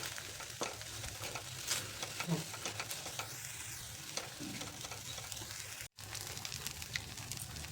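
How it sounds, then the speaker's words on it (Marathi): Chana dal puran filling is stirred and sautéed in a pan over a medium flame, with a soft, continuous sizzle and the scrape of the spoon running throughout. "ह्याला मिडियम फ्लेमवरती पाच सहा मिनिट लागतं छान घट्ट होईपर्यंत परतून घ्यायचे"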